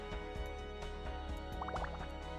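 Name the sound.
collecting water in space gardening video game Moon Garden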